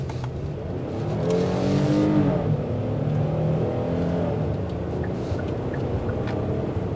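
A 2023 Hyundai Palisade SUV in sport mode accelerates hard from inside the cabin, its engine note climbing through rising sweeps before easing into a steady drone, with no talking.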